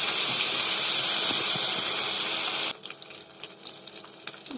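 Stone-ground green chili, ginger and garlic paste fries in a pan for a chicken and potato curry, giving a loud, steady hiss that cuts off abruptly partway through and leaves quieter clinks and rustles.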